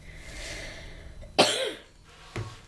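A single harsh cough from a man with a lingering illness bursts out close to the microphone, followed by a short exhale and a smaller second cough.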